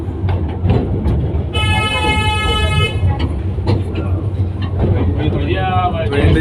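A toy train carrying passengers through a tourist village sounds a high, steady toot for about a second and a half, then a softer rising horn note near the end, over a constant low rumble and chatter.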